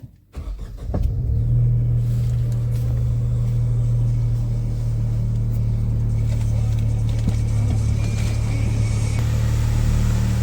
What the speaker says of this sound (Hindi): सबसे पहले गुरु स्टार्ट करते हैं इसको, गाड़ी को आवाज़ सुनते हैं कैसा इसका आवाज़ रहेगा।